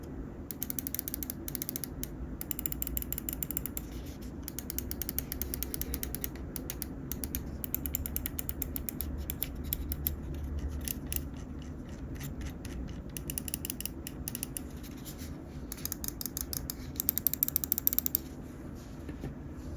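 Lamzu Tachi gaming mouse buttons clicking and scroll wheel ratcheting, a long run of sharp close clicks in quick bursts and steady notched scrolling over a faint background hum, no talk.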